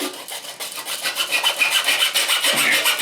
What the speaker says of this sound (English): I'm just going to take that blade that I had in my hand, and I'm going to go ahead and just cut it like this.